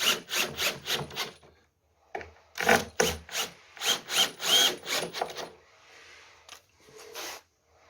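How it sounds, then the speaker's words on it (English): Power driver sinking 50mm screws through a wooden backing block during quarterpipe ramp assembly, several close whirring bursts in two runs, separated by short pauses, then quieter scraping and handling at the end. "Put your black backing block up against it and just drive the screws in."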